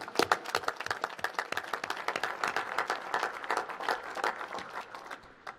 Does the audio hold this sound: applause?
yes